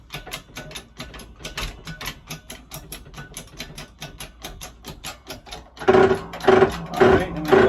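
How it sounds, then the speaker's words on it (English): A scissor-style car jack ratchets up under a 1990 Honda Civic EF in steady rapid clicks and creaks, growing louder and heavier near the end as the load takes hold. "Now we can start back jacking again."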